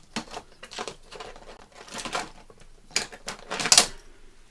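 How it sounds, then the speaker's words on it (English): Scissors snip ends off craft material for an ideas book, a series of separate crisp cuts and papery crinkles at an uneven rhythm, close and moderately loud, with no talking. "Scissors."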